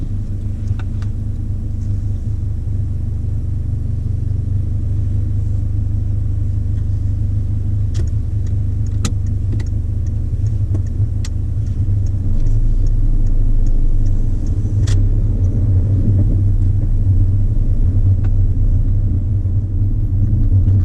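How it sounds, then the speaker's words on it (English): A car pulls away and drives along a road during a mock driving test in Oxford, heard as a steady low engine rumble from inside the cabin that swells slightly partway through, with a few faint clicks. "whenever it's safe, you can drive on when you're ready"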